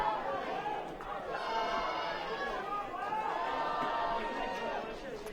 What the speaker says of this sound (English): The crowd beginning to find their voice.